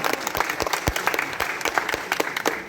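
An audience at a film trailer launch event claps loudly, dense and continuous applause with no break.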